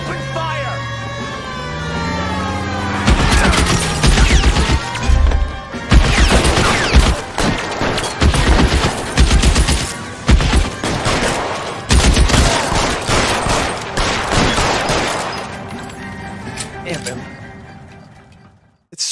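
Gunfire erupts in the open-world crime game L.A. Noire as repeated loud shots crack out in irregular bursts, mixed with voices talking throughout.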